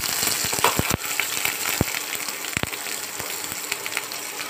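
Chopped onions go into a pan where ginger and chilli are frying, adding a few sharp knocks to a steady crackling sizzle that carries on close and fairly loud, with no talking.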